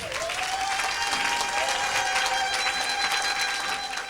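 Church congregation applauding loudly for the Lord during an evangelist's healing service; dense, sustained clapping throughout with a held musical tone underneath, no pause.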